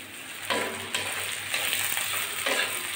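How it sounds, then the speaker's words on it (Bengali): Onion and garlic frying in a pan as slit green and red chillies go in, a steady close sizzle broken by a few louder stirring scrapes, with no talk. "পেঁয়াজ রসুনটা আমি সুন্দর করে ভেজে নিয়েছি। এবার চিড়ে রাখা কাঁচা পাকা লঙ্কা দিয়ে দিচ্ছি।"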